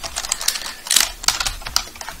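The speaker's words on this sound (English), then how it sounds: "I could type" Quick, light clicks of typing on a computer keyboard, close and fairly quiet, come in an uneven burst of keystrokes with no voices.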